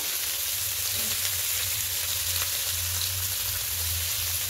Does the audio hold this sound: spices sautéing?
yes